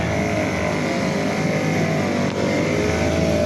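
A steady, loud Suzuki 2.4 hp two-stroke outboard motor drones without a break, an even mechanical hum that neither rises nor falls, with no voices.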